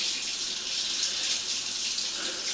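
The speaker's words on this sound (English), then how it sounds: "I'm gonna wait for the water to get there and hopefully rinse the camera head off" Water rushes through a drain line during a sewer camera inspection, a steady, bright hiss of flowing water with no pauses, close and even in level.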